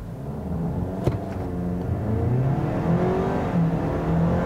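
A 2022 Ford Maverick small pickup truck accelerates hard from a stop to 60 mph, a loud steady engine drone rising in pitch through the gears, heard from inside the cab.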